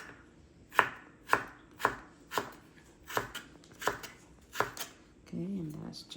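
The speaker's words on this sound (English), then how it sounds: "I'm just gonna finally slice this like so." A knife slicing an ingredient on a cutting board, about nine crisp evenly spaced chops close by, followed by a brief low voice at the end.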